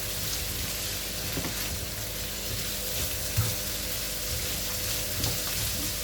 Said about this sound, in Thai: ผัดให้มันเข้ากันนะนะคะ